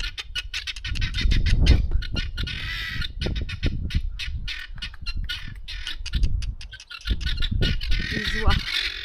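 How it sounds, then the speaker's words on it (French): A flock of geese honks and squawks loudly and continuously nearby, a noisy overlapping chorus of calls. "On a les oies là-bas."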